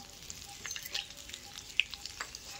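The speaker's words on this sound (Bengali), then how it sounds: "এই মাছ ভাজার তেলে আমি এই যে ফোড়নে দেবো গোটা গরম মশলা" Whole garam masala spices (cinnamon, cloves, cardamom) sizzle quietly in leftover fish-frying oil with light crackles and a few sharp pops, close and soft.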